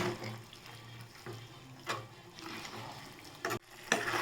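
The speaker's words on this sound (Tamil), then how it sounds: "தேவையான அளவு தண்ணி சேர்த்து நல்லா கிளறிக்கோங்க." Veg keema curry is stirred in a pan after water is added, giving soft wet scraping and gentle sizzling with a few sharper spoon knocks, close up and fairly quiet.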